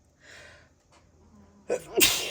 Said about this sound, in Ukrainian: скільки раз я чхнула